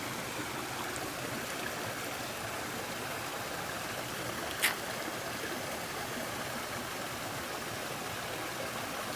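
Two waterfalls pour steadily in outdoor terrain, a continuous broadband rush of falling water that holds level throughout with no voices.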